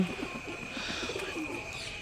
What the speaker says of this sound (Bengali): খুবই সুন্দর পায়রা, মারাত্মক পায়রা